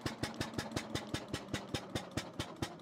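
An antique car engine running at a fixed RPM chugs steadily at a constant pace, each combustion beat a sharp regular thump, moderately quiet with no voices.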